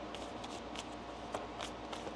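Tarot cards are shuffled in soft, papery riffles and flicks, faint and close, repeating irregularly over a low hiss with no talking.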